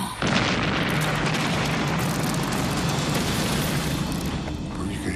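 A heavy artillery shell explosion booms and then rumbles on as a dense, roaring blast that fills the whole span before slowly easing.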